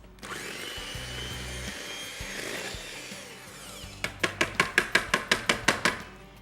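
Cupcake batter is stirred as dry ingredients go into the wet, first a soft scraping swirl, then a quick run of about a dozen sharp, regular taps of a utensil against the bowl.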